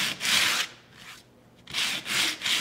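Sandpaper scrubbing back and forth over rough wood painted with sawdust-mixed paint on a stenciled coffee project, loud raspy strokes in two bursts with a quiet pause between, close and alone without talk.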